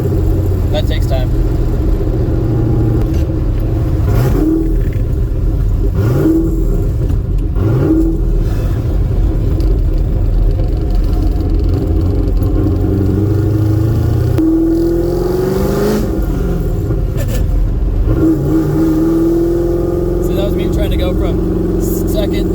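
An LS-powered Porsche 928 accelerates hard through the gears, engine note rising and dropping at each shift under continuous cabin rumble, with a person talking over it.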